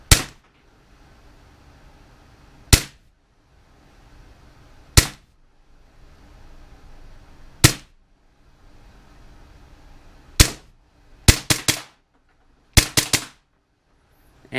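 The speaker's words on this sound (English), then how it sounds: "that was just a quick video of it shooting" Umarex Smith & Wesson M&P 40 blowback BB pistol firing nine sharp, loud cracks alone, spaced a few seconds apart at first and then in quick pairs and triplets near the end.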